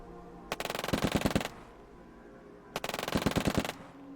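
Units open fire in the strategy video game Shadow Empire, producing two loud bursts of rapid machine-gun fire, each lasting about a second, separated by a short quiet gap.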